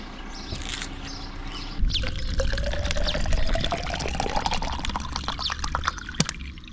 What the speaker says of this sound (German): nachdem ich meine Wasserflasche aufgefüllt habe